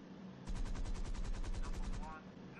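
Rapid machine-gun bursts from a fighter aircraft in the flight sim IL-2 1946, a steady rattling stream of about fifteen shots over two seconds, loud and close, tailing into engine drone.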